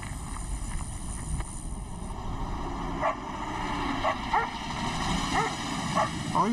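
Dogs bark in short, repeated yelps over a steady outdoor hum, with a few barks spaced across several seconds at moderate distance.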